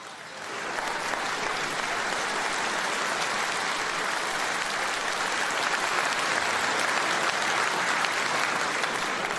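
A large political rally crowd in Sunderland claps and cheers in a dense, sustained roar of applause that swells in after a moment and holds steady and loud to the end.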